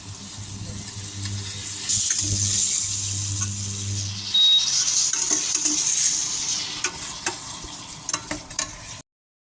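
Potatoes frying in a pan on a cooker give a steady sizzle while a utensil stirs and scrapes through them, with a few sharp clinks of metal near the end; someone speaks briefly over the cooking.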